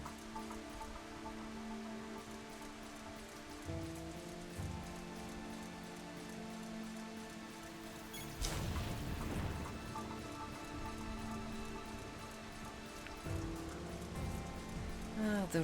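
Steady rain falls in the Japanese version of the video game Dirge of Cerberus, a constant hiss with soft game music underneath and a brief heavier burst midway.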